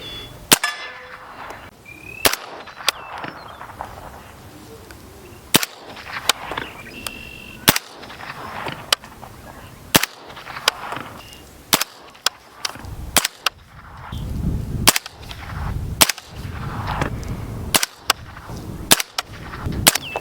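Suppressed gunshots from an anechoic suppressor fitted first with a vented and then a solid end cap, about a dozen sharp cracks spaced a second or two apart, loud and near, with clanks and shuffling between shots.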